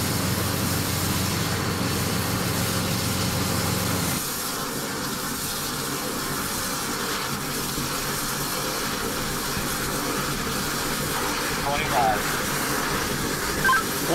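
A hydro-jetting drain-cleaning machine throttling up to about 2,500 psi, a loud steady broadband roar of pressurized water and engine that shifts to a harsher hiss partway through and runs continuously, with a voice speaking over it.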